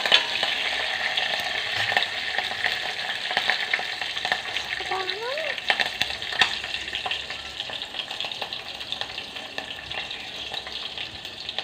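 Cross-cut green chilies hit hot oil in a pan, a continuous close sizzle and crackle with the scrape of a spoon stirring through it, steady throughout.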